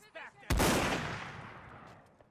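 Musket volley in a Mount & Blade North & South line battle, with a faint shot and then one loud blast, a long rumbling decay trailing off.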